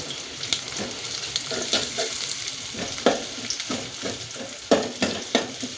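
Chopped onion, garlic and bay leaves fry in hot oil with a steady close sizzle, punctuated by repeated spatula scrapes and stirs that grow busier and louder near the end.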